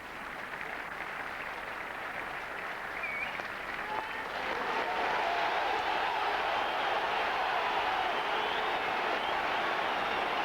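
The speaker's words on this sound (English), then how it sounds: "That gentle clapping by Milan fans, that's a sign of their respect." Gentle, steady clapping from AC Milan fans in a football stadium crowd before a UEFA Super Cup match, a soft sustained wash of applause that grows slightly fuller midway and continues to the end.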